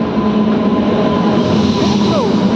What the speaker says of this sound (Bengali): তো আমাদের ট্রেন ঢুকে গেছে, দেখো কেলোয়ার ট্রেন